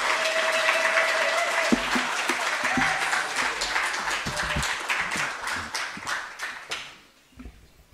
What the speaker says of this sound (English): Can you please give her another resounding round of applause?